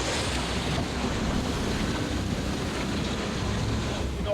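Ocean swell rolls off the Tasmanian coast around a lobster fishing boat, a constant roaring wash of waves mixed with wind buffeting the microphone, loud and unbroken with no speech.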